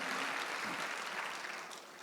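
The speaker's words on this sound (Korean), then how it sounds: "하나님이 여러분과 나를 신원해 줄 걸 믿으시면 박수 한번 해주세요" Church congregation clapping at a Sunday service, a brief, soft burst of applause that fades over a couple of seconds.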